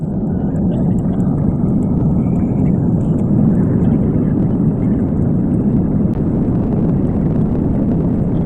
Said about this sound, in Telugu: ఇదే మనం ఎక్కబోయే ఫ్లైట్ ఇప్పుడు.